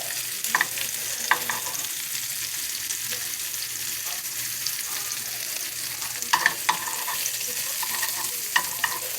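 Food frying in a pan with mushrooms and asparagus browning nearby for chicken Madeira, a steady close sizzle with a few light clinks of a utensil.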